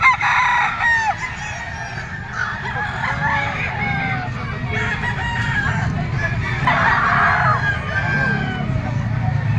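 A yellow-legged stag rooster crows repeatedly at close range among a crowd of other fowl, with clucking and a busy gathering of people murmuring behind it at a poultry grotto.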